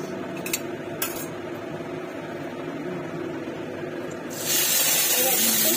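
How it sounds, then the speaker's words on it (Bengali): Dried red chillies hit hot oil in a wok, giving a steady broadband sizzle that swells louder near the end as the tempering spatters, with faint clinks of utensils early on. "দুটো শুকনো লঙ্কা ফোড়ন দিচ্ছে কেটে নিয়ে"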